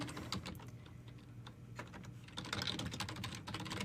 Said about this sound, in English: type in physical therapist and see what happens